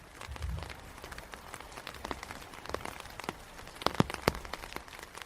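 Rain falls steadily on a country garden, a soft continuous patter with a few sharper drips near the end and a brief low thud early on, quiet and close, with no voices.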